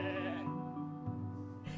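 A sheep bleats in a long, wavering, nasal cry, close and clear, with no other sounds.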